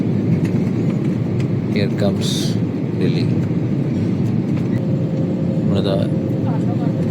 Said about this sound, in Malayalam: നമ്മൾ ഡൽഹിയുടെ പ്രാന്തപ്രദേശത്തേക്ക് ഫ്ലൈറ്റ് ഇറങ്ങുകയാണ്